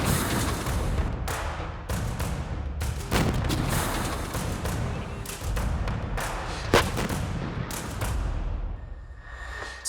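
A 120mm tank gun fires on a battlefield, giving a dense run of heavy booms and sharp blasts with rumbling echoes and overlapping bursts, loud and sustained across the whole stretch with no voices.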